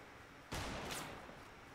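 Gunfire in the video game Fortnite: a single sharp distant shot bursts out mid-clip and trails off in a short echoing tail, quiet overall against low background ambience.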